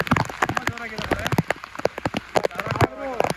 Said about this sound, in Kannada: ನೋಡಿ ಜೋರು ಮಳೆ ಬರ್ತಾ ಇದೆ.